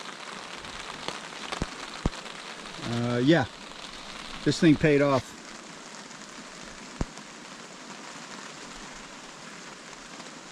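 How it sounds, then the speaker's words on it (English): Steady rain patters on a camping tarp with a constant hiss and drips, while a person speaks briefly in the middle and a few sharper drops tap nearby. "it's raining pretty good. You can see it dripping off the tarp there."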